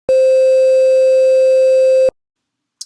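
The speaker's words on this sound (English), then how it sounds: "4 bits, you should definitely hear some noise." A steady, loud 4-bit quantized sine wave tone holds for about two seconds, overlaid with an audible grainy hiss and buzzy distortion, then cuts off abruptly.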